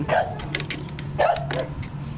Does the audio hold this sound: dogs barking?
yes